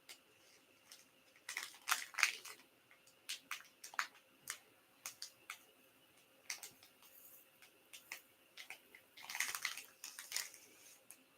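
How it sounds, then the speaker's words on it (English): Poppy seeds poured out in a series of crisp, dry rattling bursts and scattered ticks, close and fairly quiet, with short pauses between pours and no talking. "you're pouring out poppy seed?"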